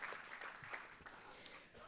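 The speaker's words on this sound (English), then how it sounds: "Big round of applause for all the guests who have been sharing their knowledge and being supporting from the last 2 months" An audience applauds the guests at a valedictory ceremony for the Vishwapreneur '15 program, a soft, steady patter of clapping throughout with no talking over it.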